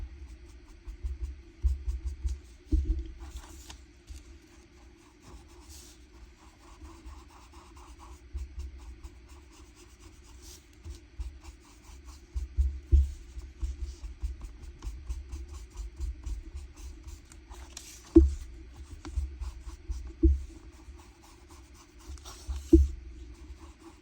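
Ink applicator rubbing Walnut Stain Distress Oxide ink onto paper in circular strokes, making a soft, quiet scratchy swishing with occasional light taps over a low steady hum.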